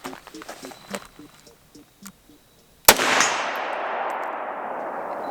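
One loud, sharp unsuppressed 7.62 rifle shot cracks outdoors after quiet moments with faint speech, then a long rolling echo decays over the next couple of seconds.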